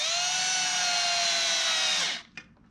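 A power drill whines steadily for about two seconds, driving a screw into wood beside copper tubing, then winds down and stops with a small click; close and fairly loud with no talk.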